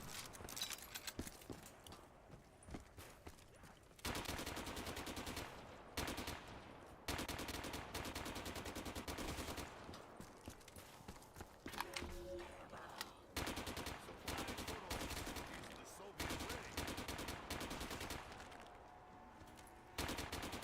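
RPK machine gun fire in a video game, long rattling bursts of rapid shots alternating with short pauses, loud and close, with scattered smaller clicks and thuds between bursts.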